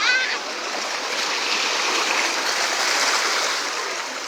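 Water splashing and streaming steadily while someone rinses off at the beach, a continuous close hiss of spray that holds evenly throughout with no talk.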